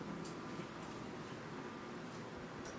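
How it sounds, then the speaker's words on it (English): Steady air conditioning hiss fills a student lounge, a constant broadband whoosh at low level with no voices and only faint momentary ticks over it. "pardon the AC noise."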